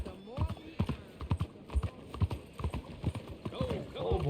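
Horse hooves clip-clop in steady rhythm in the Red Dead Redemption video game, close and fairly loud, with someone talking over the steps and a brief whinny-like sound near the end.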